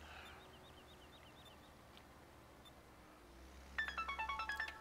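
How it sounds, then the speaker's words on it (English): An incoming phone call rings through a quiet room during a Farm Simulator 17 gaming session, a burst of rapid repeating electronic ringtone chirps starting near the end and standing out clearly over faint background hum. "Hold on one second, guys. I got a phone call."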